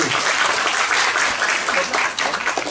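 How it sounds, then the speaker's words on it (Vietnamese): Applause from the congregation at a church service: dense, steady clapping from many hands that fills the whole stretch, with a few voices faintly mixed in. "Let's give a hand to Jeffrey"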